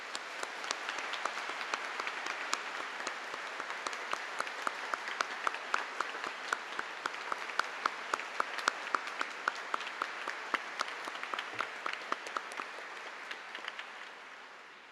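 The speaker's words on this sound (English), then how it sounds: "But one final applause to the young organists for today." An audience at Sydney Town Hall claps steadily for young organists, a dense, even applause of many hands that holds throughout and tapers slightly at the end, fairly distant and without talk.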